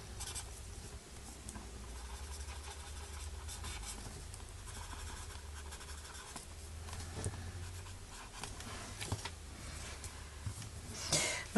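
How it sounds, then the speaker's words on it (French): Soft, continuous scratching of a pink pencil colouring on paper, faint and close, with small uneven strokes and light rubbing throughout. "Moi j'aime bien colorier comme ça, je trouve que voilà, ça fait un rendu tout doux"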